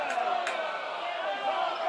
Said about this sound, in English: the Coffeyville crowd is not liking this call right here